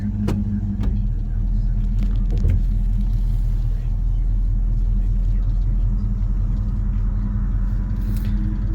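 A Mercury Comet with power steering and manual brakes rumbles along in a loud, steady low drone from inside the cabin, with brief knocks early on and someone talking over it.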